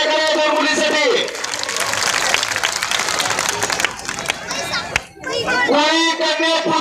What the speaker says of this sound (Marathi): सगळ्यांनी जोरदार टाळ्या करा मुलीसाठी।